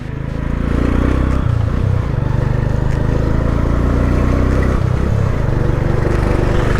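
Traffic on a Legazpi City street on a Saturday morning, with motorcycle engines droning and revving close by in a steady, loud rumble and no talk.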